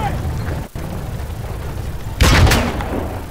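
In Call of Duty WW2, during the Battle of the Bulge, an enemy tank fires one heavy, booming shot that rises suddenly out of constant battlefield rumble and then slowly fades.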